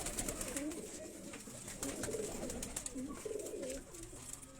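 Khak sira pigeons coo softly in repeated low, rolling phrases, several birds overlapping at close range against a faint background hiss.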